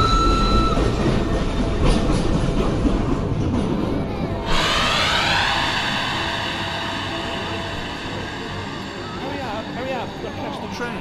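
A train rumbles and clatters past with screeching wheels and a rising metallic whine, while voices murmur in a busy station.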